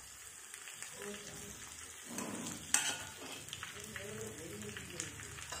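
Garlic and a green chili fry in oil with mustard seeds and cumin for a dal tempering, a soft continuous sizzle with occasional pops and stirring, fairly quiet and partly under a voice.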